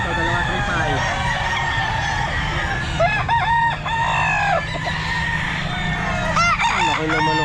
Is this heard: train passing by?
no